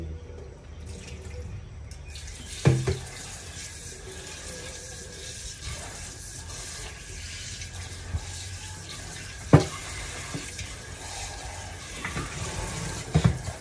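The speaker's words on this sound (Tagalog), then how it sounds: "Sobrang lakas ng tubig." Strong, steady flow of running tap water into a kitchen sink while cooking fish, a continuous broadband rush with a few sharp clanks and drips on top.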